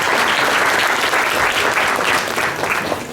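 Dense, steady applause from a forum audience after a startup presenter finishes at a business leaders' forum, loud and continuous for the whole span, with no one speaking over it.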